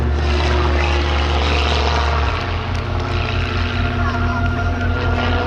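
A propeller-driven light aircraft flies at an air show in the Isère Alps, its engine drone steady and fairly loud throughout, dropping in pitch slightly partway through, with faint background voices.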